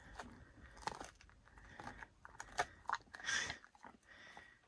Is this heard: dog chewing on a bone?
yes